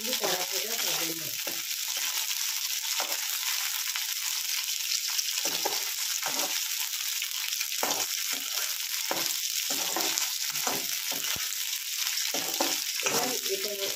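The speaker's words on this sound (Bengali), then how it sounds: "এটা কিন্তু কড়া ভাজা হবে না।" Okra frying in hot oil in a pan and being stirred, giving a steady broadband sizzle with repeated scraping stir strokes throughout, fairly close and continuous.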